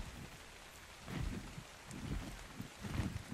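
Steady rain falls in the video game Ark: Survival Evolved, a continuous hiss of drops with soft rumbling swells that rise and fall, heard alone without talk.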